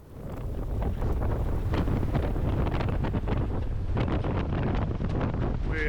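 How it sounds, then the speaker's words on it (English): Strong wind buffets the microphone in a loud, constant roar with gusty low rumble, filling the whole stretch without letting up. "You can probably hear all wind and none of me."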